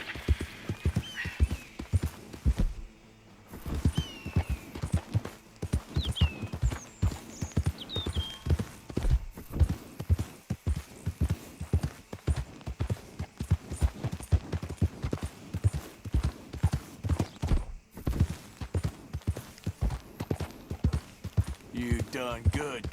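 A horse trots and gallops through Red Dead Redemption 2, its steady clip-clop of hooves running throughout. Occasional snorts can be heard, and a voice talks over the hoofbeats.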